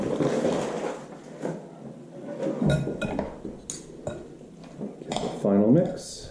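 A spoon mixes food sprinkled with a heaped teaspoon of sugar in a bowl, with clinks and scrapes under a steady voice talking and some kitchen background.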